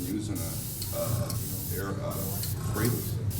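An airbrush sprays paint onto a plastic scale model in short, repeated hissing bursts, close and fairly loud, with someone talking over the spraying throughout.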